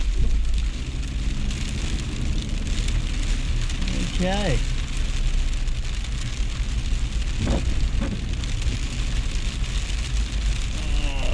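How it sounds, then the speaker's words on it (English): Hail and rain pelt a car during a Melbourne storm, a dense, loud, unbroken patter that drums on the roof throughout, with a few brief voice sounds and a short spoken word. "It's hailing, everybody."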